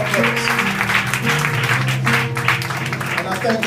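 A church audience applauds after a gospel performance, broad sustained clapping that fills the clip at close range under a voice speaking over it.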